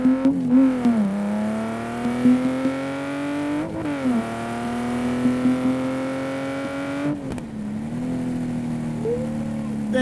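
Engine revving hard and accelerating repeatedly, pitch climbing in surges with brief gear-shift dips, loud and close throughout.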